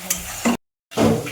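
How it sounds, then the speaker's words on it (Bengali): Spices being fried and stirred in a pan while cooking paneer biryani, brief scraping stirs and sizzling split by a short silent gap, close and moderately loud. "মশলা ভাজা হয়ে গেল, এবার দিয়ে দিচ্ছি ম্যারিনেট করা আলু।"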